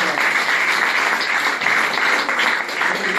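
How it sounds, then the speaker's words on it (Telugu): A hall full of people applauds loudly at a government college Women's Day celebration, dense sustained clapping that holds steady throughout with only slight dips. "నిజంగా ఒకసారి అందరూ గట్టిగా చప్పట్లు పెట్టి"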